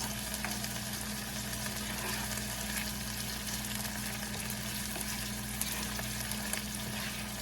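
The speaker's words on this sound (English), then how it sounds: "Sauteing those up. We're going to let those saute for a couple more minutes." Peppers and onions sautéing in a pan for a spicy beef empanada filling, giving a steady low sizzle with a constant hum beneath, close and moderate, with no voices.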